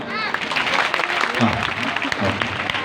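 An audience of children at a public talk breaks into steady, dense applause that fills the whole stretch at an even level, with a faint murmur of voices underneath.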